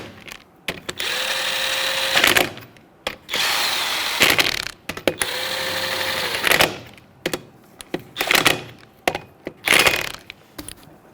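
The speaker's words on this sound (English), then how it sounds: "Now with a 19mm socket, I'm going to snug it up in a star pattern." A power tool with a 19mm socket runs lug nuts tight on a Jeep Patriot wheel, several whirring bursts of a couple of seconds each separated by short pauses, close and loud.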